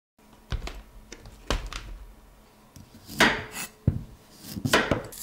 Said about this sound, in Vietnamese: Mình dùng cái bào này kéo một đường từ trên xuống dưới rất tiện.